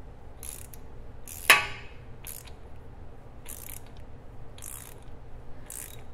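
A small ratchet snugging the pinion nut on a Ford 8.8 axle during a seal replacement gives a few faint, spaced clicking bursts with one sharper knock near the start, over a low steady background hum.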